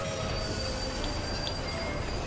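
A steady, continuous train rumble with faint wheel squeal fills the whole stretch inside the Final Fantasy XIV Omega raid at Chadarnook, a constant mechanical roar with no pauses and no voices.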